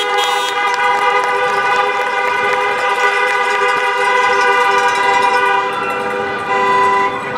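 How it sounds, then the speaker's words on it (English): Many car horns honk together at an outdoor drive-in high school graduation, a loud, sustained overlapping chorus of tones that runs without pause throughout. "now we're telling you to honk your horn."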